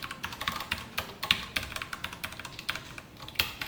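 Typing on a computer keyboard, a brisk irregular run of crisp key clicks with a few sharper strokes, close and clear, with no voice over it.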